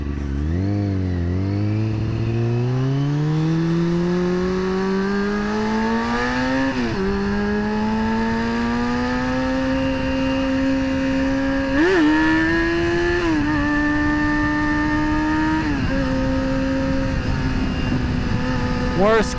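A motorcycle engine revs steadily and rises in pitch during slow wheelie practice at a bike meet, with repeated throttle blips and gear changes, loud and close throughout.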